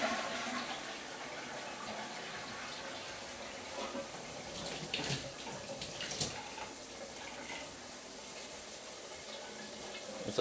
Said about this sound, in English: Go ahead and flush the toilet.